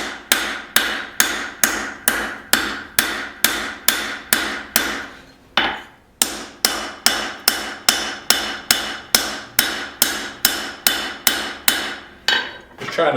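A hammer strikes a hot knife blade on an anvil while forging and widening it for an integral bolster knife, sharp ringing blows in a steady rhythm, roughly two per second, with one brief pause midway.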